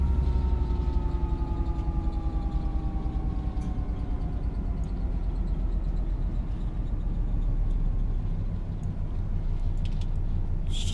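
A Class 66 diesel locomotive engine idling in Train Simulator 2017 gives a steady, loud low rumble with a faint, slowly falling whine above it, continuous and unbroken for the whole stretch, no voices.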